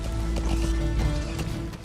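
Horse hooves clip-clop in a quick steady rhythm while riding in the video game Metal Gear Solid 5, fairly loud and close over a low engine-like hum.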